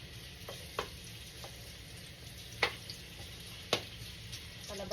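Ginger sautés in a pan for salmon head sinigang with a soft, steady sizzle, broken by a few sharp clinks and scrapes of stirring.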